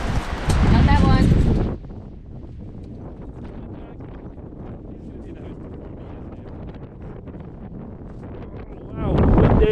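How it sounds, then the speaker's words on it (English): Strong wind gusting outside a century-old cottage on an island, roaring loudly into the microphone at the start and end with a steadier, quieter rush between, while people talk over it. "Wow, windy!"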